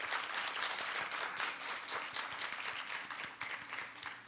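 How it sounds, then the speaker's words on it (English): A warm round of applause at a Bharatanatyam dance recital, honoring the dance teacher: many hands clapping in a continuous, fairly soft wash, heard at some distance with individual claps poking through. "could we have a thunderous round of applause for our dear Geetha ma'am?"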